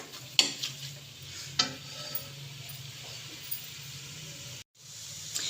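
Sooji halwa cooks in a pan with a soft continuous sizzle, marked by a few sharp spoon scrapes and clicks as it is stirred, close by, with one brief dropout and no talking.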